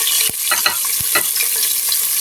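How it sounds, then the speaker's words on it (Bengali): Onion hits hot oil in a pan for cauliflower curry, a bright, continuous sizzle close by with scraping stirs and small knocks. "দেখেন তেলটা হচ্ছে গরম হয়ে গেছে। এখন দিয়ে দিচ্ছি হচ্ছে পেঁয়াজ।"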